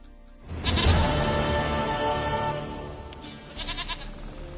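A goat in The Witcher 3 lets out a loud, long bleat close by, wavering and then fading into a quieter second call.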